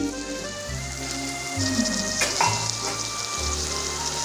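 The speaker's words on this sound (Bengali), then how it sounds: "এবার আর একটু কষতে থাকবো মশলার সঙ্গে" Banana flower sautéing with potato and spices in a pan sizzles steadily and close, a continuous frying hiss with light ticks, while a low rhythmic hum pulses underneath.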